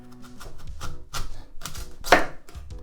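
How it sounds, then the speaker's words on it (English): A knife cuts a hard quince into pieces on a board: several dull, firm chopping thuds at an uneven pace, close, with one sharper crack near the end and no talking. "Now let's cut the quince in pieces."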